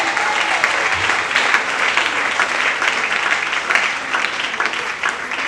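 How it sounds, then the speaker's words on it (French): Church congregation applauding and acclaiming during a prophetic service led by Prophet Elysée Kasanda, a loud dense roar of clapping and voices, continuous and close, with scattered sharper claps. "Est-ce que tu peux me donner un tonnerre d'acclamation?"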